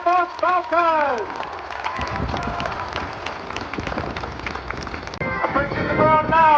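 A crowd at the RAF Cosford air show applauds and cheers for the RAF Falcons parachute display team: a steady wash of clapping in the middle, with a public-address announcer speaking before and after it.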